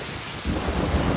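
A thunderstorm in a Telugu movie scene brings a dense wash of rain, and a low rumble of thunder swells in partway through, loud and close.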